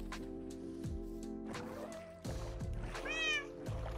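Cat in the Minecraft video game meowing several times in short, separate calls over a low background drone, fairly clear and close with no talking.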